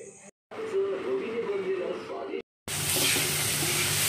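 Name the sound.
onion and tomato sautéing in a pan for pav bhaji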